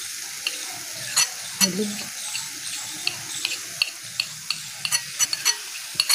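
Spoon stirring spices in a pan for egg and potato curry, with scraping clicks and knocks against the pan over a low sizzle, close and fairly steady, one brief spoken word.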